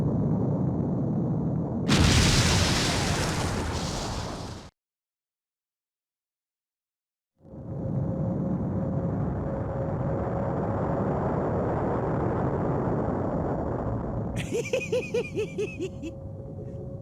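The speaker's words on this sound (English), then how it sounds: "if we're not careful, we'll be caught in the explosion." Explosions in the Mega Man Legends video game: a loud blast bursts out, cuts to silence, then a long rumbling roar builds and carries a sustained tone, ending with rapid crackling bursts.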